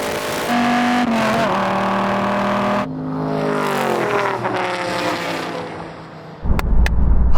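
Cobra, Viper or Mustang engine at a drag race launch, a loud sustained roar with rising harmonics that bogs down slightly mid-run, then fades into a rougher rumble and a few sharp clicks at the end.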